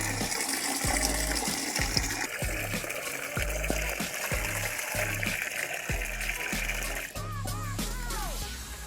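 Running water pours steadily into a container, being collected for a guppy fish tub before a water change. A continuous close splashing gush plays over a faint rhythmic background.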